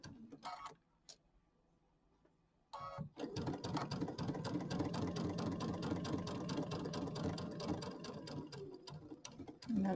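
A sewing machine stitches a quarter-inch seam across a quilted bench buddy square, a couple of quick taps giving way to a long steady run of rapid needle chatter, close and unaccompanied by voices.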